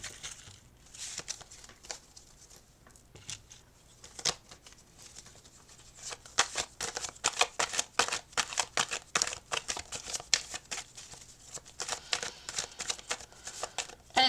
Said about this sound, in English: I'm gonna shuffle this and let's see what we get for you